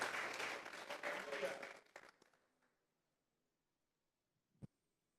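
Church congregation gives an offering of applause during a Spanish-language sermon, loud dense clapping that fades out midway, followed by near silence and one brief knock.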